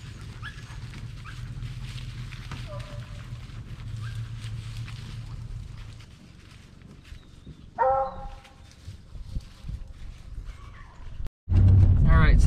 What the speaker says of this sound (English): They was barking pretty good coming down through there